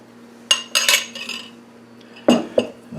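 Metal utensil clinking against a bowl while mixing flour and buttermilk for a sourdough starter: a few sharp, close clinks and scrapes in two short clusters, with no talk.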